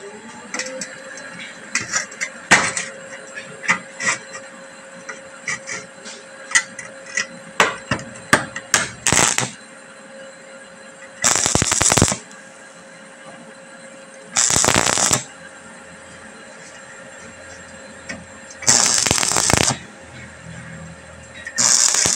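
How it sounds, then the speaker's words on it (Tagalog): Arc welding on a steel sliding window roller guide, with crackling, buzzing bursts of several seconds each, preceded by a run of sharp metallic taps and clicks; no talking. "Magwe-welding tayo."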